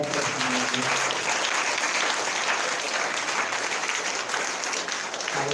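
A church congregation at a Sunday meeting breaks into loud, sustained applause, dense clapping that stays steady for several seconds with no gaps.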